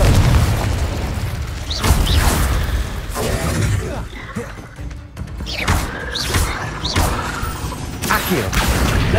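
Hogwarts Legacy Confringo fire spell bursting in loud, booming blasts, several heavy explosive hits with crackling debris spread across a dense, continuous game soundscape.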